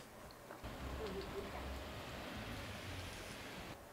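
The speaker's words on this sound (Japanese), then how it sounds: "すっごい降ってます。" Heavy rain pouring down outdoors over a backyard putting green lawn, a steady broadband hiss that stays loud and constant throughout.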